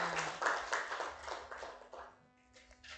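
Classroom of students clapping for a classmate, a short burst of quick, uneven claps from a small group that thins out and fades toward the end.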